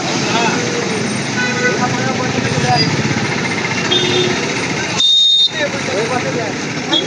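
Busy road traffic with cars and honking horns, a steady roar of engines and tyres close by, with a brief loud horn blast partway through.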